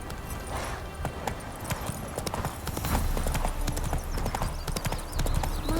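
Roach, Geralt's horse in The Witcher 3, clip-clops along in a steady, busy rhythm of hoof strikes, close and continuous against faint game ambience, with no voices.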